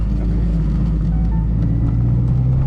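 A ninth-generation Honda Civic Si with a manual gearbox accelerates in gear, its engine producing a steady, loud low drone with a slowly rising pitch, heard from inside the car.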